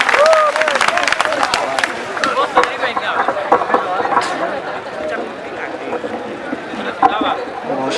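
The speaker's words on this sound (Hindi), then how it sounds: "एक एक सब तक शेरदार तालियां बजनी चाहिए" An audience at a mushaira poetry recital in Pokhar Bhitwa, Siddharthnagar, applauds loudly for a poet, sustained clapping from a large crowd that gradually thins toward the end.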